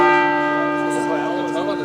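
A large church bell in a European tower rings close and loud, one sustained metallic strike with long humming overtones slowly decaying, with a voice faintly underneath.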